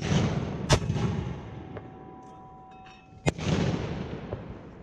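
Mortar rounds fired during a U.S. Army mortar leaders training course with the 2d Cavalry Regiment: two sharp, loud booming launches a few seconds apart, each trailing into a rumble, with faint outdoor background between them.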